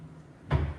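A kitchen cabinet pull-out drawer slides and bumps shut, one short dull knock with a brief rumble over a quiet room.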